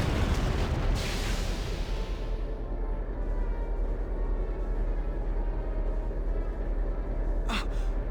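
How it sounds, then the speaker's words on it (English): Tank main cannon firing in the video game Valkyria Chronicles: a loud booming blast at the start that rolls off into a long rumbling decay, with a brief sharp burst late on. "That main cannon is lethal."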